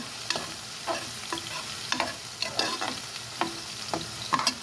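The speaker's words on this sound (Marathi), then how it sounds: "देठही छान असे भाजून घ्या" Taro (aluchi) stalks roast in a hot pan, a low steady sizzle broken by repeated scraping strokes of a spatula stirring them, close up and with no talk.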